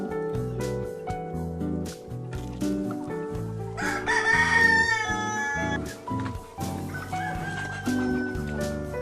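Korean native chickens on a small farm flock in Yeoju, Gyeonggi: a rooster gives a loud, drawn-out crow midway while hens cluck intermittently, all over steady background music.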